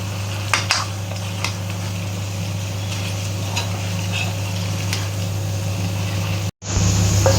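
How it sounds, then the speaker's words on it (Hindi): Chicken leg pieces fry with masala in a pan, giving a steady, dense sizzle with occasional utensil clinks. A low hum sits under the frying, which cuts out briefly near the end, and no one speaks. "तो मसालों के साथ में अच्छे से फ्राई करेंगे।"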